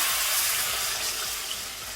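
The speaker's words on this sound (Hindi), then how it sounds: "इसमें मैं पानी ऐड कर दूंगी।" Water poured from a yogurt bowl into a cooking pot of mutton trotters for Lahori paya, a steady broadband splashing pour lasting the whole moment, fairly close and with no talk.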